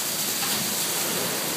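Steady, dense rain and hail pour down during a storm in North Las Vegas, a loud continuous hiss filling the whole clip with no pauses or talk.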